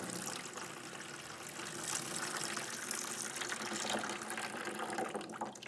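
Water pours out of a mason jar through a sprouting lid, a steady close rushing trickle that continues without a break for several seconds.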